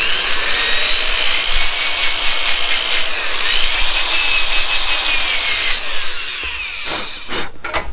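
A power drill spins a wire brush against parts of a 1970s Tecumseh HS40 4hp engine, giving a loud continuous high whir and scrubbing rasp. Near the end it winds down into a few scraping bursts.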